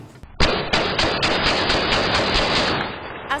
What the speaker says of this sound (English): As the gunshots hit her home on November 12th, Ashley, a Milwaukee mother of two